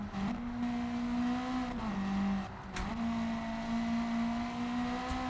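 Race car engine in the video game Gran Turismo, a steady droning hum held at moderate revs with slight pitch dips and rises, moderately quiet and with no voices over it.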